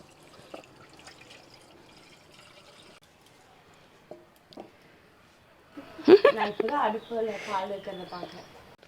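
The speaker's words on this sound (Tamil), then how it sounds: "பால் ஊற்றுவோம்" Milk poured into a pot heating over a small wood fire in a new kitchen, a liquid splash and trickle rising suddenly partway through and continuing for a few seconds after quiet talk and faint crackle.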